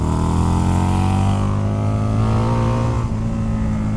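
A supercar-maker-built Harley motorcycle engine revs hard and close, a steady loud drone of rising harmonics held for the whole stretch with a brief dip near the end.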